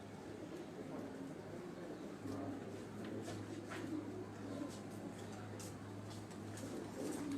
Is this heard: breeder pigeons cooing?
yes